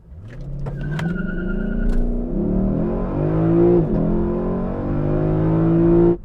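A 2024 Lexus LC500 engine roars loudly as it accelerates hard from 0 to 60 at high density altitude, pitch climbing through several gear shifts, with brief tire squeal from wheel spin at the start.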